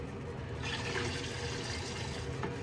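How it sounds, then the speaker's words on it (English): Fresh water rushing through a Navien NCB-240 combi boiler as it is flushed clean of vinegar, a steady, full hiss of flowing water close by, constant throughout with no voices. "I'm gonna get water flowing through the system"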